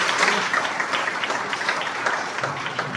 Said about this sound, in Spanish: Ese aplauso para el profesor Jesús Morales.